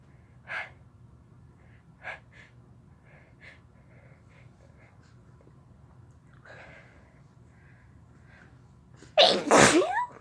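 A sneezing fit induced by chhinkni snuff, with several sharp short sneezes and sniffly gasps spaced across quiet breathing, closing on one loud, forceful sneeze up close.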